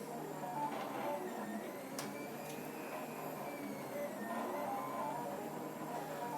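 A Colido DIY 3D printer runs steadily while extruding a line, giving a continuous mechanical hum with a few faint whirring motor tones and brief clicks, with no voices.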